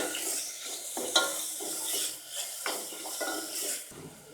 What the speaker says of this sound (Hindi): ये चिकन का मोटा सा कीमा ये ऐड कर दिया। इसको भूनना है